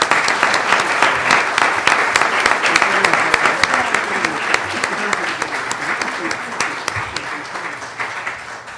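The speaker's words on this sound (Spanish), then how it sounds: "Pedimos un aplauso para la licenciada María Concepción Hinojosa" Audience applause at a panel on molecular genealogy, with loud, dense, sustained clapping from a roomful of people that continues evenly throughout, with some voices underneath.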